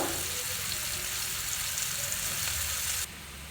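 Water poured into a frying prawn and green tomato curry, a hissing wash of sizzle and splashing that runs steadily, then abruptly drops to a quieter simmer near the end.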